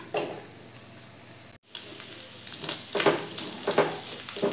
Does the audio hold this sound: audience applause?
no